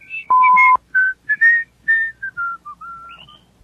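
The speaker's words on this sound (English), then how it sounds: "the father strode off, whistling a merry tune" A person whistles a lively, bouncy tune in short melodic phrases, clear and close, with brief pauses between notes.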